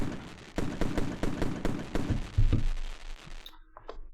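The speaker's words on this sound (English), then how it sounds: "we'll match those fireworks with some fireworks of our own right there." Fireworks sound effect of rapid crackling bursts and pops, a dense rattling barrage at moderate level that thins out and ends abruptly.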